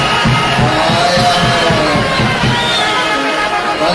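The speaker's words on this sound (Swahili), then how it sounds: "Makofi tena." An audience applauds at a Kenyan public event, a dense, steady wash of clapping mixed with crowd cheering and chatter, loud and continuous throughout.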